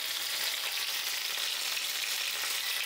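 Tomatoes cut lengthwise and drumsticks sizzle in a hot pan with salt, giving a steady, close frying hiss throughout with light stirring.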